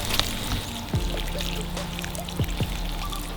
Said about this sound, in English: We've still got embers in there. So you douse it with